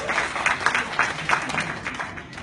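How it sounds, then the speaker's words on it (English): Applause from a crowd welcoming a music composer at a press meet for the SIIMA awards in Singapore, dense steady clapping rising and falling, with a voice over it. "A big, big round of applause."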